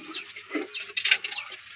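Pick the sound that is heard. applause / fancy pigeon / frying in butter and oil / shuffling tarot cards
fancy pigeon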